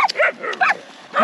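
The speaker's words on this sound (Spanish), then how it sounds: "Tiene perros bravos." Fierce dogs bark in short, close, sharp bursts with a few yips, scattered across a brief moment, with no talking.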